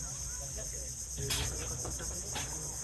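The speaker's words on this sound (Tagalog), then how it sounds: "Ang narinig mo dito, kuliglig." Crickets chirp in a steady, high-pitched drone throughout at El Nido, Palawan, with faint scattered rustling and knocks underneath.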